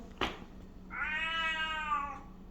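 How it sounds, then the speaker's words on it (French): A begging cat gives one long, drawn-out meow, clear and close, following a brief thump, with no talking. "Et le chat des enfers quémande."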